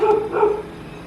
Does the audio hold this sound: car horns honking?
no